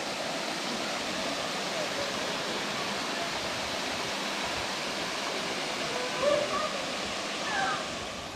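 Steady broadband rush of a waterfall cascading at Litchfield National Park, constant and fairly loud throughout, with a couple of brief faint sounds near the end.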